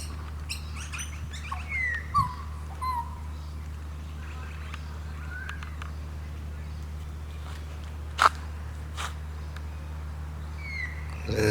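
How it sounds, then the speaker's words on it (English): Australian magpie calling in suburban Moorooka, a few faint, scattered warbling notes over a low steady background hum, with other birds chirping now and then. "It's a magpie."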